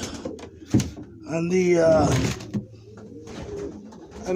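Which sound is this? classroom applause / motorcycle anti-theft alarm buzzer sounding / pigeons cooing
pigeons cooing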